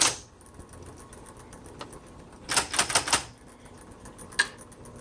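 Keys of a 1960s Smith Corona Coronet Automatic typewriter strike in a brief cluster of sharp, close clacks after a quiet stretch, with one more isolated strike near the end and no talking.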